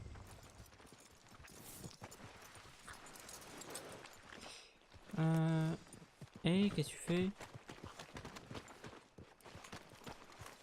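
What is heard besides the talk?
horse hooves walking, from video game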